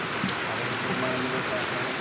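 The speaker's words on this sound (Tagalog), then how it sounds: "Taas ang ulan, oh." Dense, steady rain hisses across everything at a construction site, a constant wash of falling water with faint voices underneath.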